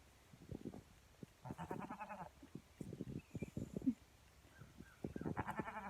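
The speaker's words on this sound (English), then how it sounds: "You see that baby goat?" Baby goat bleating on a farm, several repeated nasal bleats in bursts, fairly close and clear, alongside other short animal calls and rustling; no talk.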